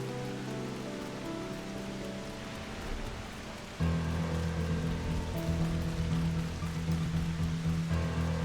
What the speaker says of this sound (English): Oh, now it starts raining. I suppose at least it's raining in-game and not out of game